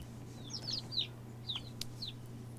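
Chickens cluck and chirp inside a barn in the game Vintage Story, several short bird calls scattered over a steady low hum, fairly quiet and with no talk.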